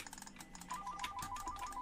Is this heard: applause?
no